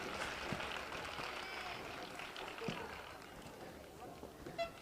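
Home crowd applauding at an under-15 women's football match between Navarra and Asturias, a faint distant patter of clapping running steadily beneath a commentator's talk.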